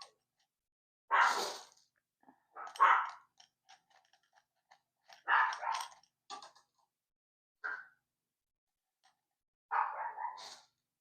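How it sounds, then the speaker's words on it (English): Dogs bark in several short, separate bursts with quiet gaps between, moderately near and fairly loud against a silent background. "Oh, now the dogs are barking."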